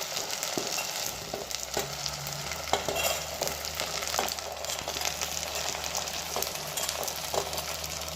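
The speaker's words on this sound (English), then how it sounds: "Once onions are fried a little, then add all the vegetables one after the other." Onions and vegetables frying in a pan give a continuous, even sizzle, with scattered soft stirring knocks and scrapes over it, heard up close with no voices.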